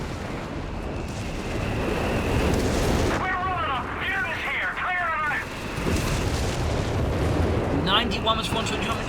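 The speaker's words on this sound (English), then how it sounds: "now we got like a lot of artillery called in here" Artillery shells land and explode on a Company of Heroes 3 battlefield, with rumbling booms and sharp blasts under a steady din of war noise, while a voice talks over the action and whistling incoming rounds cut through.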